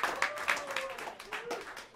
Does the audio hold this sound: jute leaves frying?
no